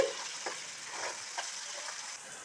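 Noodle soup simmering in a pan while being stirred after salt and white pepper go in, a soft continuous sizzle and bubbling with faint scraping strokes, no one speaking.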